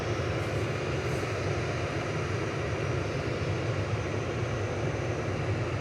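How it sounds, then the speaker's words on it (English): An Airbus A380 arriving on flight 21 from Dubai, crossing the runway threshold to land at Manchester Airport, makes a steady, loud broadband jet roar with a deep low rumble that holds unbroken throughout. "A380 just coming over the threshold now."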